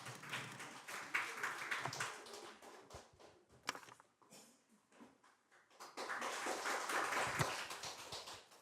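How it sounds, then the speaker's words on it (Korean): An audience at a conference on AI and consumer protection claps for the next presenter, a loose spread of hand claps that swells, thins out in the middle, then rises again, with no talking over it. "박수로 청해 듣겠습니다"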